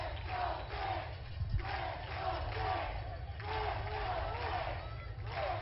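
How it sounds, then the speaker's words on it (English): Baseball crowd at a Rancho Cucamonga Quakes South Division playoff game against the Inland Empire 66ers, a steady roaring wash of voices urging the home team on, with rhythmic swells of chanting and a brief sharp clap. "Crowd urging on their Quakes"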